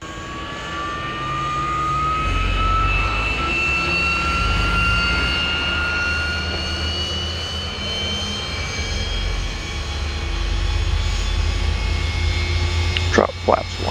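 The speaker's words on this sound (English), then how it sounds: "Start the engines up." Simulated Northrop F-89 Scorpion jet engines spool up in FSX flight simulator, a steady loud roar with rising whining tones that builds and holds, with a few brief clicks near the end.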